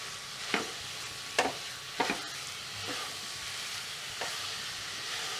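Gokul Mitha mixture cooking in a pan over the flame, a steady close sizzle broken by several sharp scraping stirs in the first half, with no talking.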